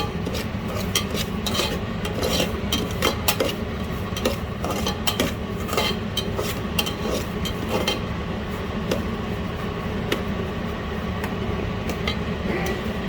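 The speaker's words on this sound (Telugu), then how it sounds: "నేను ఈ రవ్వనంతా ఇలా వేయించుకుంటున్నానండి." Semolina (rava) for upma is dry-roasted in a pan, with a spatula scraping and clattering against the metal in a loud, busy, continuous rhythm close by, with no voices over it.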